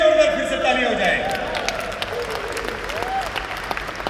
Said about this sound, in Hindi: इनके लिए भी एक बार जोरदार फिर से ताली हो जाए